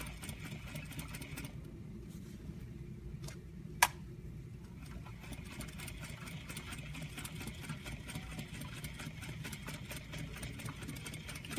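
Sewing machine stitching the edge of a garment waistband, back stitching, a faint continuous mechanical hum with a soft ticking texture and one sharp click partway through, no voices.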